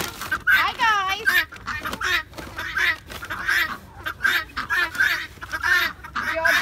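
A farm flock of ducks, geese and other fowl squawks, quacks and honks in a dense, continuous chorus close by at feeding time, loud and overlapping throughout.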